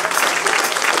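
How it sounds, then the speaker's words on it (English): Congregation in a church clapping their hands together after a sermon, a loud, dense burst of applause filling the whole short moment with no voices. "Clap your hands to the Lord if you agree with that."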